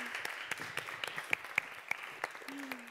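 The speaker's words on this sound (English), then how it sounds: "So please can we get a round of applause for Mary?" Scattered clapping from an audience at a Cambridge Union talk, a loose patter of separate claps at moderate distance rather than a full ovation, with faint murmuring and a brief voice in the background.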